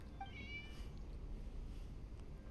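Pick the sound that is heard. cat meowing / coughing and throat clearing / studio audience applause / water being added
cat meowing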